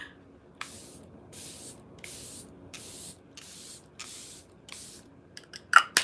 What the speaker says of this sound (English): The Airbrush Flawless Setting Spray is my go-to spray.